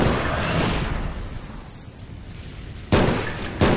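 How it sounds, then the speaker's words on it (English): Napalm strike in Call of Duty: Black Ops, a broad roaring blast and burning rumble that fades over a couple of seconds, then two sudden sharp bursts near the end. "Enemy napalm strike incoming."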